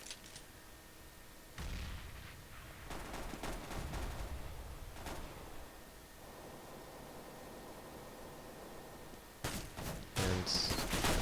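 Gunfire during a competitive Counter-Strike match, a dense muffled rumble of shots and bursts rolling along, with sharper cracks near the end, moderately loud against steady background noise and no talk.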